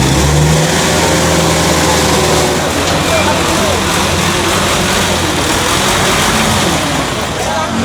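A truck maneuvering on a short city street during an illegal-parking clearing operation gives a loud, steady engine rumble and revving that continues throughout, with voices faintly underneath.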